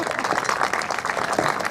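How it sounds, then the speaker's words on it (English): Audience applause at the opening ceremony of an arthritis charity walk in Detroit, a dense steady patter of many hands clapping for a short stretch at even loudness. "Let's give those people all a round of applause."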